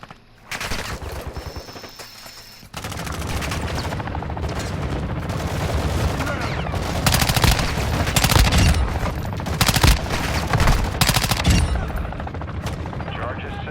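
Gunfire in Call of Duty, the video game, comes as dense, loud bursts of automatic shots and sharp cracks over a constant battle rumble, sustained and close with heavier blasts in the middle.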